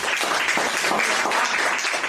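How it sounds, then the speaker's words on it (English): An audience at a PSASA KZN chapter talk claps together in a full, continuous round of applause, dense and steady at close range with no speech over it. "Can you give him a round of applause?"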